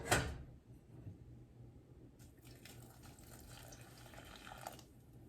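Hot water poured from a cup onto one cup of dry TVP (textured vegetable protein), a steady close liquid trickle and splash after a brief initial clatter, with no talking.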